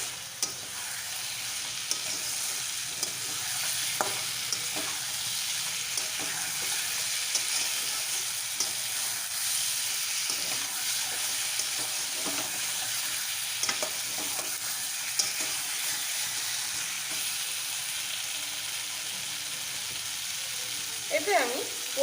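Boiled potatoes and fried eggs sauté in a spicy masala, giving a continuous soft sizzle and crackle, with occasional scrapes of a stirring spoon across the pan, steady and fairly quiet throughout.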